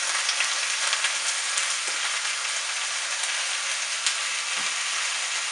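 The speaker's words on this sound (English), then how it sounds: "And then I'm going to just dump this beet stuff in here." Beets dumped into a hot pan sizzle steadily in a dense, even frying hiss, close and continuous with a few faint clinks, no talking.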